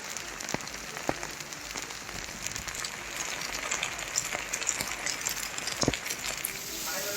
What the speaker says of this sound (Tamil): தமிழகத்தின் பல்வேறு இடங்களில் பரவலாக மழை பெய்தது